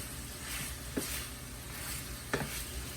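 Garlic cooking in olive oil in a pan for Italian beans and sausage, a steady soft sizzle broken by two brief stirring scrapes, no talking.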